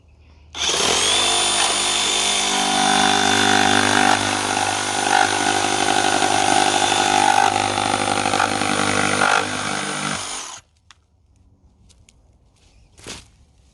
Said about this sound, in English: very aggressive saw here